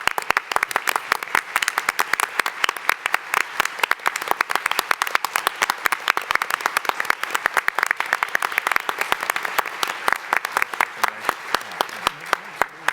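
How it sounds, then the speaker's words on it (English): An audience at an annual meeting bursts into sustained applause, dense rapid clapping from many hands that stays loud and even for the whole stretch before tapering slightly near the end. "Why don't we have them all stand up and give them a round of applause?"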